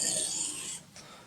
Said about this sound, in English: We're just going to take some passes with the knife here